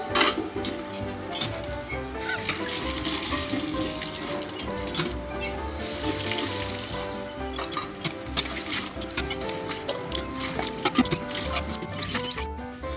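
Dishes, pots and utensils get washed at a sink in a rural home, with running water, clinking metal and scraping clatter going on steadily and up close, and no speech.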